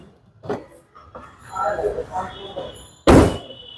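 A used Toyota Premio FL car door is handled and opened with clicks and shuffling, then swung shut with one loud, solid slam near the end.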